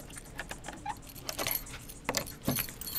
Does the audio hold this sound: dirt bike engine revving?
no